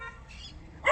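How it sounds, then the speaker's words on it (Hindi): A dog barks once, loud and close at the very end, with low background noise before it. "वो देखो कुत्ता भौंक रहा है"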